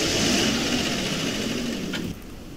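Vehicle engine running steadily in the Roblox game A Dusty Trip, a low continuous drone near and fairly loud that drops in level toward the end.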